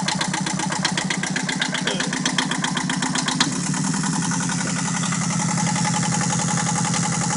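A Yanmar 2GM marine diesel runs close by with a steady rapid knocking chug and heavy vibration, unchanging throughout with no voices.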